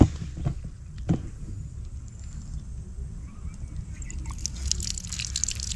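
Water trickles and drips steadily through the partly opened valve of a water pump, a soft continuous flow with a few louder drips, growing brighter and stronger near the end.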